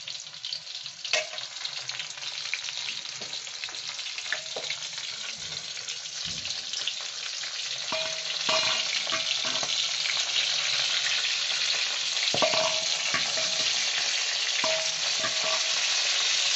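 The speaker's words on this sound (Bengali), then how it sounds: "আমি অল্প অল্প করে দিচ্ছি খুব একটা বেশি দিচ্ছি না যাতে ভালো করে ভাজা হয়" Corn kernels deep-fry in hot oil, added a few at a time, giving a dense, continuous crackling sizzle with scattered sharper pops, close and steady throughout, with no talking.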